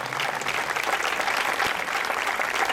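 An audience claps loudly and continuously for a music band at a concert in Roquetes, a dense crowd applause sustained from start to finish.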